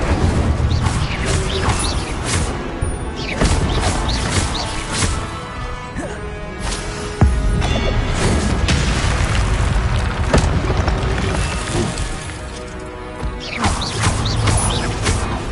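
An Incendio fire spell cast in Hogwarts Legacy, repeated in a dense run of booming, crackling blasts and impacts within continuous loud game combat audio.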